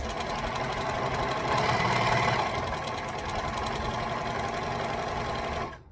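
A sewing machine stitching at a moderate pace, giving a steady rapid mechanical chatter with a slight swell midway before it stops abruptly at the end, with no talking.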